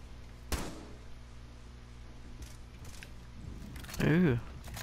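A single sharp gunshot crack from the Rainbow Six Siege video game rings out early, followed by quiet room tone and a brief burst of voice near the end.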